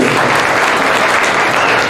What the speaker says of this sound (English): let's clap for our doctors